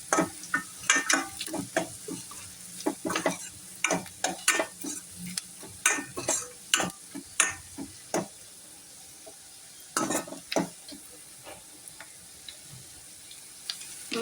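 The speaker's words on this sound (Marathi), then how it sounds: "मस्त छान असं आपला कांदा आणि हे सगळं परतलं गेलेलं आहे." Onion and cut green chili sautéing in a pan for a kabuli chana pulao, a soft background sizzle under repeated sharp scraping and tapping of a spatula stirring, in irregular bursts with a brief pause, close and without talk.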